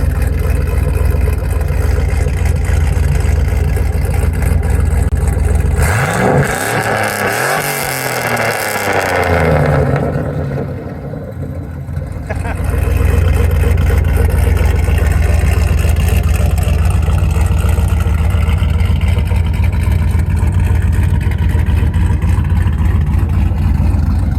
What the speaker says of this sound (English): Rev it up a few times.